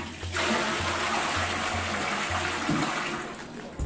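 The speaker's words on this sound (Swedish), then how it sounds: "När man använder toalettborsten, då får man spola." A toilet flushes during bathroom cleaning in a shared residence, a steady, close rush of water running almost the whole time with a faint low hum beneath it.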